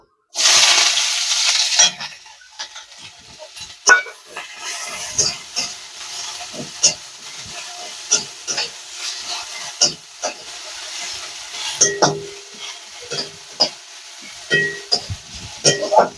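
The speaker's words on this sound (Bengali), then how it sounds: "ওই তেলেই পেঁয়াজটা ভেজে নেব।" Onion frying in oil in a home kitchen, a steady sizzle with scattered stirring clicks and scrapes throughout.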